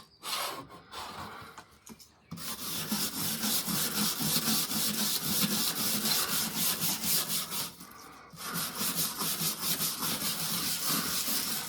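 Rust is scrubbed off an item being cleaned, a steady, close rasping rub that runs almost nonstop, pauses briefly about two-thirds of the way through, then resumes.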